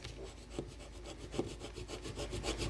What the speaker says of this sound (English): we're going to burnish, burnish, burnish, burnish, burnish